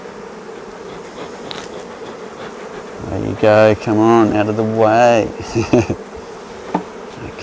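Honeybees buzz loudly around a hive being split, several close wingbeat drones rising and falling over a steady background hum, while a person speaks briefly.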